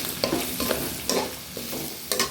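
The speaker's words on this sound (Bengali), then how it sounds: "দিয়ে একটু নাড়াচাড়া মাংসটা ভেজে নিচ্ছি" Meat fries in a pan with ginger, garlic and cumin, a steady close sizzle broken by scraping stirs of the spoon about every half second.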